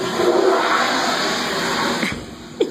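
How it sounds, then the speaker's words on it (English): Toilet flushing: a continuous rushing, gurgling water sound that stays steady for a couple of seconds, then tapers off with a small splash near the end, close and fairly loud. "The noise of the toilet flushing?"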